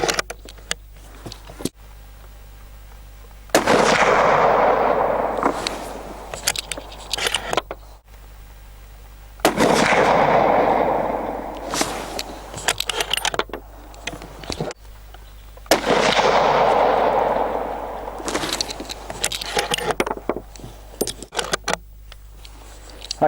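Three loud, sharp rifle shots from an Anschutz 1780 in .308 firing Highland rounds, each with a long rolling echo, spaced several seconds apart, with faint handling clicks in between.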